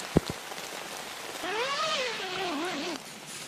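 Steady light rain patters on a Kelty military one-person field tent, a soft continuous hiss with a couple of louder drips and a cat meowing faintly outside.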